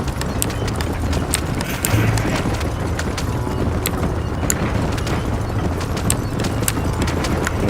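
Horse galloping in the Red Dead Redemption video game, a steady rapid clip-clop of hooves running throughout at an even pace, close and continuous with no talk.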